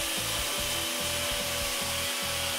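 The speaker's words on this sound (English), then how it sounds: "Using the cutoff wheel here was actually kind of interesting. When you're cutting the plastic lens, it shreds it" A cutoff wheel grinds through a plastic car headlight lens with a harsh, loud, continuous whine, pulsing rhythmically about five times as the wheel bites and shreds the plastic.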